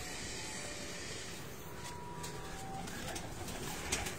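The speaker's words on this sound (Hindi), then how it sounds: "बहुत बड़े कबूतरों का खजाना आपको दिखाएंगे।" Pigeons cooing on a rooftop in Faisalabad, a steady chorus of soft, repeated coos over a constant outdoor hiss, with no voices.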